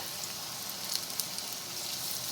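Green peas vada made from ground green peas sizzling steadily in hot oil, a soft continuous crackle with faint pops, close and alone.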